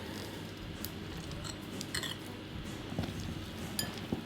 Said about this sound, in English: I'm going to start to give that a gentle stir, and then I'm going to add in the banana.